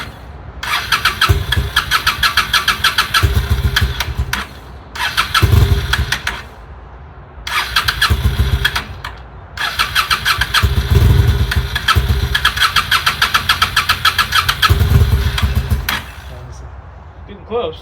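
A Honda Shadow motorcycle engine runs on half choke, revving in loud surges that dip and rise unevenly, with people talking nearby over the engine noise.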